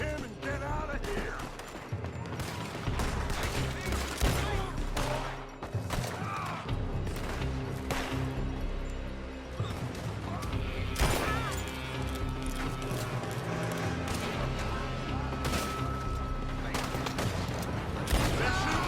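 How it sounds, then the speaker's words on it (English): Dense, continuous gunfire from a Red Dead Redemption 2 shootout, with overlapping shots, crashes and loud impacts filling the whole stretch under a busy game soundtrack. "They're shooting from that building!"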